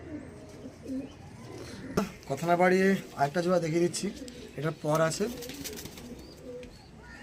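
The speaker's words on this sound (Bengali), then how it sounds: "অনেকগুলো পায়রা আছে" Black Diamond pigeons coo softly in the background while someone talks over them almost continuously.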